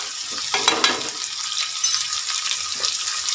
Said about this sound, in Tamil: வெங்காயம் நல்லா செவக்கட்டும்